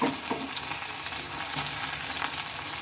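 Chopped onion fries in hot oil with cumin and bay leaf, making a loud, steady, close sizzle that carries on without a break, with a faint stir or two in the pan.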